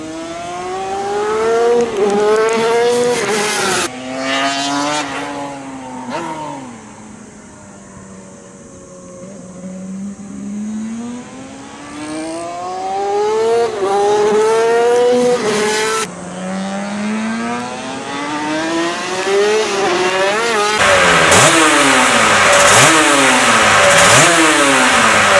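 Loud two-stroke motorcycle engines rev up and down in long, repeated sweeps. Their buzzy pitch climbs and falls across the recording, with a brief quieter lull before a final harsh, high-revving stretch.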